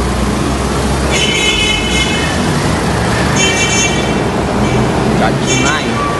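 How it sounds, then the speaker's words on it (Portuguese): Car horns honk again and again in busy road traffic from a truck's viewpoint, short tonal toots coming from several directions over a steady loud roar of engines and road noise. "É só buzina pra lá e buzina pra cá."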